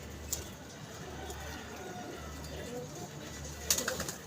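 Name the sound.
pigeon cooing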